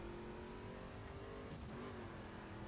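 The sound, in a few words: race car driving fast in video game The Crew, Pikes Peak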